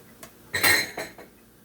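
Hot water cornbread made with yellow cornmeal is flipped in a pan, giving a couple of close metallic clinks and scrapes of a utensil against the pan, alone without talk.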